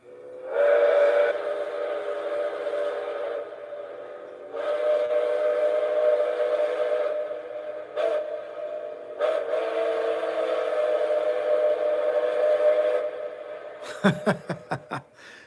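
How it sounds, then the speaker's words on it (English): A model train's whistle blows the crossing pattern of long, short and long blasts, loud and close, followed by rapid clanking bursts at the end. "Let's blow it right now. Actually, you know what? We'll do the crossing whistle."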